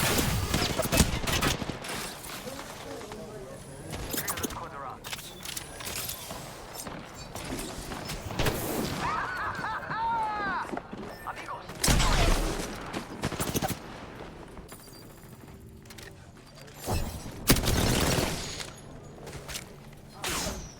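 Gunfire rings out in an Apex Legends esports match, scattered bursts and single shots in close, fast succession, mixed with footsteps and mechanical clatter, heard under a commentator's voice.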